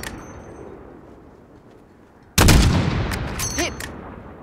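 A sniper rifle fires at a distant target in Call of Duty Modern Warfare: quiet ambience, then one sharp loud shot with a ringing tail and faint metallic pings.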